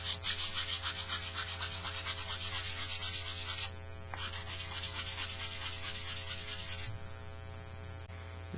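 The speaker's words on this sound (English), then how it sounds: "we can square up a lot of this with some sandpaper on board" Sandpaper on a board rubs steadily against a wooden piece for a scale RC rig build, a loud, continuous rasping close up with a brief pause near the middle and a low background hum.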